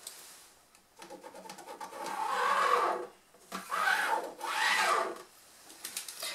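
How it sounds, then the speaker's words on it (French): A line being traced on sewing fabric, heard as three soft, close scraping strokes with gentle swells and a short pause between them, with no talking. "Et je retrace à nouveau une ligne"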